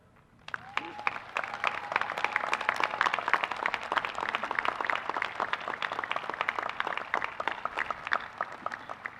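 Audience at the United States Coast Guard Academy commencement breaks into applause, a broad sustained wash of many clapping hands that rises quickly after a brief quiet start and holds steady, heard from a moderate distance.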